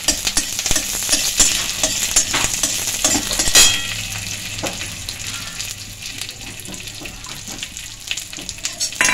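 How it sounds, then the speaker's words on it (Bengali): Curry leaves dropped into hot oil for a spiced tempering for a mixed lentil mash, crackling and sizzling steadily with stirring scrapes and a sharp burst partway through, loud and close. "কারি পাতাগুলো দিলে তেলের মধ্যে ফুটতে থাকবে"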